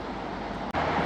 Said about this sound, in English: excuse the road noise again